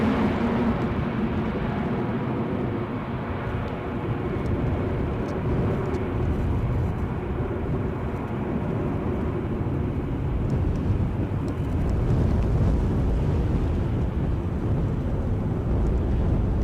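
An airliner at Edinburgh Airport in gusty 40 mph wind gives a steady, loud low rumble that holds for the whole stretch, with wind buffeting the microphone and no voices.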